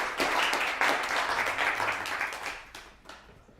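An audience applauding at an event for poets, a full burst of clapping that thins out and fades toward the end.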